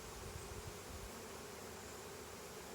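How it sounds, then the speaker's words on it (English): Honeybees in a split hive roar with a dense, even buzz, loud and close, forming a constant hissing drone with no gaps; no voices. "And I've got roaring bees."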